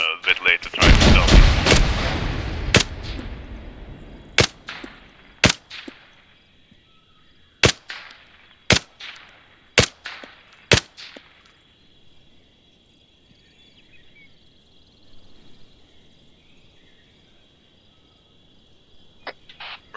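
Gunfire rings out in a video game battle: a loud early burst, then about ten sharp, separate shots in the first half, followed by near quiet with a faint, steady high whine.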